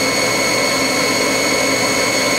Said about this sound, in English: That's going to be at 3000 RPMs. This is a 7500 RPM spindle.